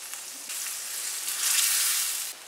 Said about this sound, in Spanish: Le voy a poner un chorrito de vino tinto.